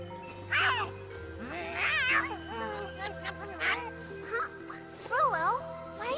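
Rolo the cat meowing in the video game Tales of Xillia 2, a string of plaintive meows and short mews over a soft background tone and faint jingles, nearby and clear.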